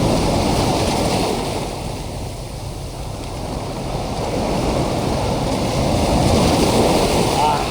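Strong sea waves at a rocky beach in Khorfakkan, a loud continuous roar of surf with some wind rumble on the microphone, rising and falling in volume throughout.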